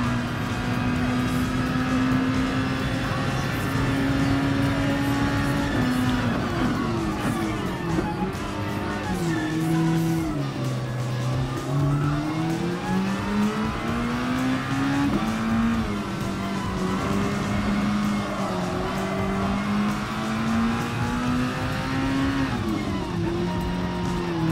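Red Bull X2014 Junior race car engine in Gran Turismo Sport, a loud high-pitched whine held steady, then dipping and climbing as the revs fall and rise through gear changes, continuous and close.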